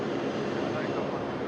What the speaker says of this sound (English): 100, runway 16 right, clear for takeoff